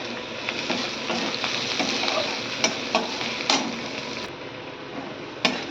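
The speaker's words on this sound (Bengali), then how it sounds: "রসুনটাকে আমি ভাজা ভাজা করে নেব। ঠিক আছে, এখানে একটা আমি তেজপাতা দিয়ে দিলাম" Garlic and a bay leaf fry in hot oil in a pan, giving a continuous close sizzle with scattered sharp pops and ticks of spoon stirring.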